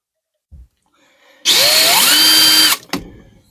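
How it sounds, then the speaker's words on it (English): A power drill boring a hole to mount solar switch gear: a brief click, then one loud, close, whining run of about a second with the pitch shifting as it bites, stopping abruptly, followed by a short final burst. "I'm going to come in with our drill"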